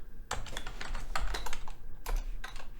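Rapid, irregular keystrokes on a computer keyboard, clattering close and clear with brief pauses between bursts, no voices.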